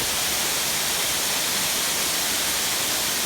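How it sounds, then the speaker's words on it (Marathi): A waterfall in the Chiveli forest of the Konkan region roars as a dense, steady rush of falling water, loud and close, with no other sounds breaking through. "तुम्हाला हा धबधबा पूर्णपणे दाखवतो"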